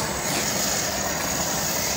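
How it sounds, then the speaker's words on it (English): Aircraft engines roar steadily at an international cargo airport in Anambra State, with two planes active at the same time, a continuous broad rumble with a high whine on top and no talk. "Two planes at the same time."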